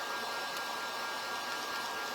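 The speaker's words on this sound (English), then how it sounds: "Or not my brush, my dryer. And I'm going to dry that up real quick." A hair dryer runs steadily and close at high speed, blowing air to dry wet paint on a bee-themed craft tray, a continuous even whoosh that holds the whole way through without pause.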